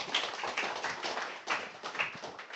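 A church congregation claps during a Sunday worship service, a dense, steady patter of many hands at moderate level with a few sharper bursts, no talk over it.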